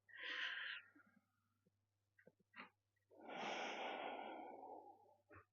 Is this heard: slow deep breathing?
yes